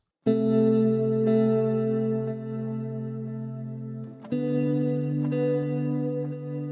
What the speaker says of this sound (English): So what I have is these delayed guitar chords.